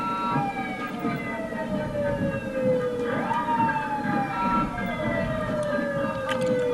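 A fire engine siren wails nearby in a holiday parade, its pitch sliding down then sweeping back up, over a constant low rumble of engine and crowd noise.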